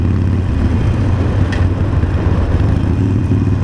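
A car engine hums loud and steady while driving, caught in an awkward speed between third and fourth gear, with a constant close drone and no talk.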